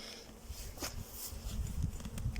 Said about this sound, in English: Loads of bees up here, which is fantastic to see.